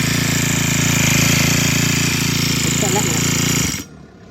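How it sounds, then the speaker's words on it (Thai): A cheap GX35-type small four-stroke engine runs loud and steady with a dense, buzzing drone, then cuts off abruptly near the end, leaving quiet. "ติดเครื่องแล้วนะครับ"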